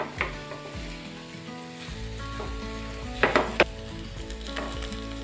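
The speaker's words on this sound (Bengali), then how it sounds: "এখন ভালো করে ভেজে নিব।" Soft pumpkin pieces frying in a pan while being stirred, a fairly quiet steady sizzle with a low hum beneath and a few sharp scraping clicks of a spoon against the pan.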